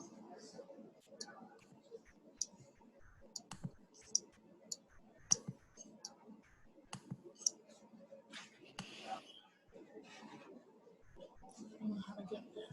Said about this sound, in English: I see Michael, is typing.